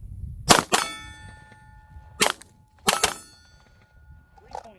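Sharp, loud gunshots ring out on an outdoor range during a shot-timer drill, two quick pairs of cracks with metallic clang from struck steel targets, and a faint timer beep and voices afterward.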